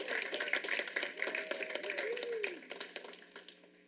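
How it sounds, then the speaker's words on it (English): A round of applause at a school district board meeting, scattered clapping from a modest crowd with uneven, sparse claps, while someone's voice carries faintly under it and the clapping thins toward the end. "a round of applause."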